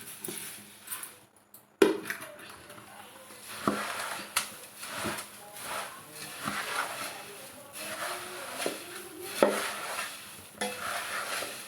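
Fried poha tipped into a hot pan of sizzling tempering and stirred with a spoon, steady frying hiss under repeated scraping strokes against the pan, close up with a sharp clatter early on.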